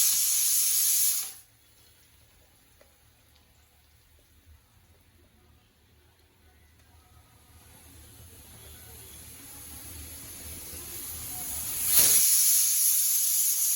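Ground tomato and onion paste hits a hot pan with a loud burst of hissing at the start; a near-silent stretch follows, then a second strong hiss flares near the end. No one speaks.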